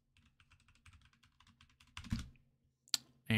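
Rapid keystrokes on a computer keyboard as a password is entered, a steady run of light clicks for about two seconds, then a couple of louder, sharper key presses after a short pause.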